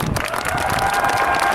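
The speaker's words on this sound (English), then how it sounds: "Would you give them a round of applause?" A crowd at an Air Force basic military training graduation ceremony applauds and cheers, a loud, dense burst of clapping with scattered shouts, sustained over a short stretch.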